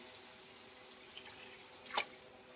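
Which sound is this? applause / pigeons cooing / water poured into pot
water poured into pot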